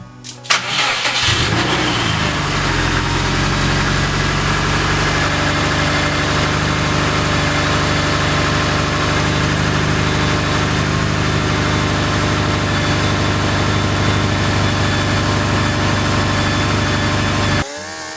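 A rebuilt, freshly reinstalled Subaru EJ255 2.5L turbo engine cranks briefly, catches with a loud rising roar, then settles into a steady, close idle that runs evenly until it cuts off at the end.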